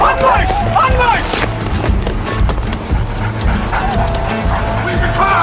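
A dog yips and barks urgently amid shouting voices and busy background noise, the barks close and overlapping with speech.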